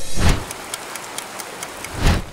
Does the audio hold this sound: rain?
yes